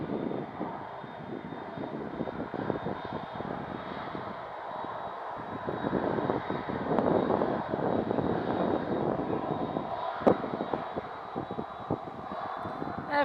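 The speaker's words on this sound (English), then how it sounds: "Air France on the way in after KLM" An Air France airliner arrives at Manchester Airport, its engines roaring steadily at moderate distance for the whole stretch, with a low broadband rumble that swells slightly toward the middle.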